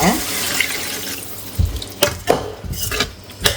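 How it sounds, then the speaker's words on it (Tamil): Water is poured from a tumbler into a pan of sautéed brinjal for a horse gram kuzhambu, a broad running splash followed by a few short clinks and knocks of utensils against the pan. "ஒரு டம்ளர் அளவுக்கு தண்ணி ஊற்றிக்கோங்க"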